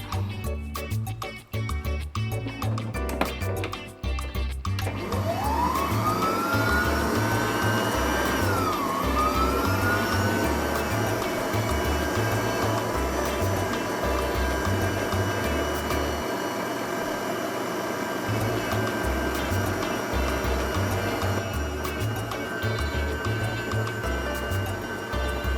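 An electric mixer whirs through chocolate cake batter, its motor whining as it spins up after a few seconds, then holding a steady, loud drone over faint background music.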